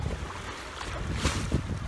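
Wind and water wash around someone standing waist-deep in the warm Mediterranean Sea off a beach, with gusty microphone buffeting and soft splashes.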